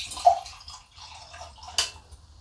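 Homemade country white wine is poured into a glass, giving a short, quiet liquid trickle with a brief gurgle and a small splash near the end, close and alone.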